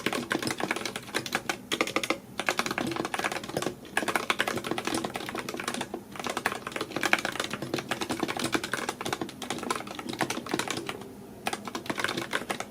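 Rapid, continuous typing on a computer keyboard while writing a book chapter, close and steady with dense clattering keystrokes and only brief pauses, no talking.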